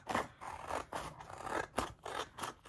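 Scissors snip through holographic sticker paper in a quick, steady series of close, crisp cuts, about six strokes with a papery scrape between each.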